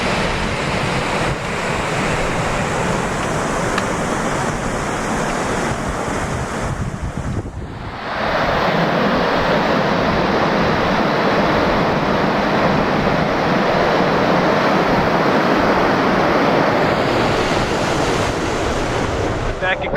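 Strong wind at Grandaddy Lake roars in a constant, dense rush that buffets the microphone for the whole stretch, with choppy water churning underneath and a brief dip in the gusting partway through.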